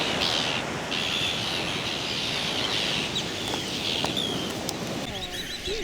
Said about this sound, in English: you might as well be dive bombed by some of the prettiest and best flyers of the seabirds, the terns